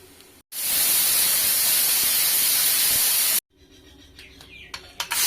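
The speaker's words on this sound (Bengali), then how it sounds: "এবার হাওয়াটা বের করে নিচ্ছি।" A pressure cooker holding boiled lentils and potatoes has its steam released in a loud, steady, close hiss lasting about three seconds, which cuts off abruptly and leaves quieter kitchen sounds.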